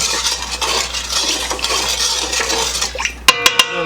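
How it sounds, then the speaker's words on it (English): A spoon stirs 13 bean soup in a metal pot with a wet scraping swirl, close and clear, ending in a few sharp clinks against the rim. "Give her a little stir."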